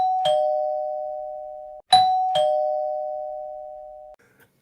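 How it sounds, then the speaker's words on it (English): Battery-powered doorbell rings twice with clear electronic chime tones that hold for a couple of seconds each, close and loud against silence, with no talking. "I rang the doorbell twice just to make sure the batteries were working"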